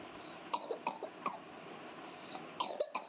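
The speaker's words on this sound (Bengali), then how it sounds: "কাশি হচ্ছে" A feverish child coughs several times in short bursts, a few close, dry coughs separated by quiet pauses, with a second cluster toward the end.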